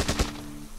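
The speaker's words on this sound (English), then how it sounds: "We need to test out our new gun." A new gun in Hurtworld fires two quick sharp shots in rapid succession, followed by a short ringing tail.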